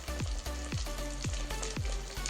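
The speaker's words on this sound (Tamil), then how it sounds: "இப்போ வெங்காயம் பூண்டோட சீரகம் மிளகு வெந்தயம் 3 ஒன்று சேர்த்து வணக்கலாம்" Onion, garlic, cumin, pepper and fenugreek frying for an anchovy curry: a steady, close sizzle with rhythmic scraping stirs roughly every half second, with no talk.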